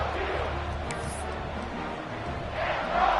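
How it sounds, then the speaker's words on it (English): Football stadium crowd at a Marshall vs. Coastal Carolina game, a broad roaring cheer that holds steady and swells toward the end, with a whistle-like squeal briefly cutting through and voices mixed in. "this crowd is feeling themselves after that last drive."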